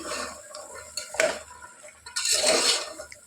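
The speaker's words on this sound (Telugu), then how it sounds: "ఇప్పుడు దీన్ని బాగా మిక్స్ చేసుకోవాలి." A spoon scrapes and clinks against a bowl while a chickpea snack mixture with chopped green chilli is stirred, two bursts of close clattering mixing separated by short pauses.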